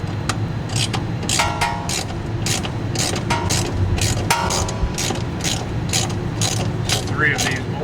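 A ratchet fitted with a 5mm ball-end Allen socket on a long extension clicks in quick, steady bursts, loud and close, while working bolts on a 2016 Volvo Polestar V60 3.0 during a go-fast-bits CBV install, with a mechanical whir between strokes.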